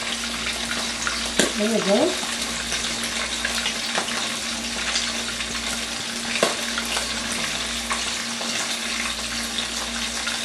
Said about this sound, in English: Be sure that the oil is really hot. Let's fry.